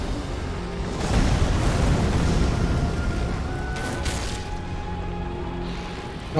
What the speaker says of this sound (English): We're still firing the jar cannon.